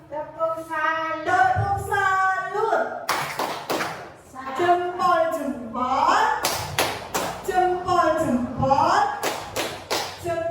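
A classroom class performs a rhythmic salute-clap chant: bursts of quick, crisp claps alternate with a voice leading and the group chanting in between.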